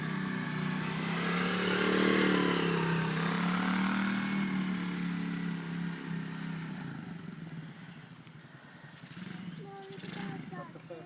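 A motorbike engine drones steadily nearby with its pitch rising and easing as the bike rides around, while people talk over it.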